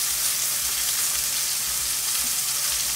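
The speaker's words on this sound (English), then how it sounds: "I'm kind of like basting it with butter" A T-bone steak fries in a pan while being basted with butter, giving a loud, close, continuous sizzle with steady crackle throughout and no talking.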